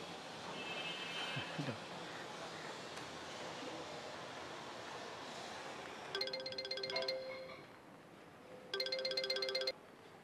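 Two bursts of an electronic phone ringtone, a repeating chiming pattern, each about a second long, fairly clear over a soft background hiss in a drama scene.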